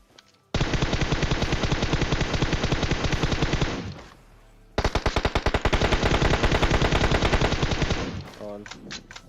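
Rapid automatic gunfire from a Groza rifle in PUBG Mobile rattles in two long sustained bursts separated by a brief pause, loud and close, with a few scattered shots at the end.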